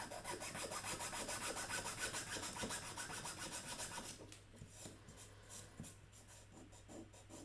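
Sandpaper rasps across a small plastic miniature tank part in steady back-and-forth strokes, dense and continuous at first and then lighter and more spaced, quiet and close with no talking.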